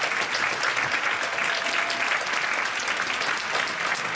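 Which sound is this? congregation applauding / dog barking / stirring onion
congregation applauding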